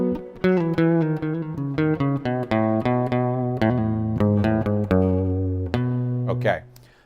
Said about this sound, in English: that's the sound of B Mixolydian